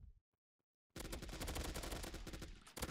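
Sustained automatic gunfire emptying a full magazine in the mobile FPS game Fire Strike, a dense rapid burst starting abruptly after near-silence and running loud and continuous to the end.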